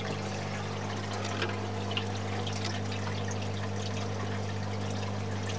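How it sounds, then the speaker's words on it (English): Steady running water from a pump filling the UV filter chamber of an aquaponics setup, a continuous close trickling and splashing over a constant low motor hum, with no talk. "You can see there the pump filling it up"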